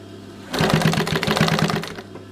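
A Singer 31k15 industrial sewing machine with thin thread and a small needle stitching in a fast, even rhythmic clatter for about a second and a half, close and fairly loud, then stopping.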